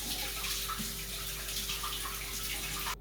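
Tap water runs steadily over a burned hand, a soft, constant faucet hiss with light splashing under a faint electrical hum, holding until it stops abruptly at the very end.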